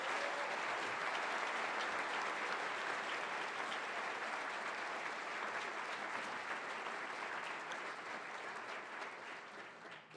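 A large debate audience applauds candidates Representative Dennis Richardson and Governor John Kitzhaber, a dense, sustained wash of many hands clapping from start to finish that gradually eases off at the end.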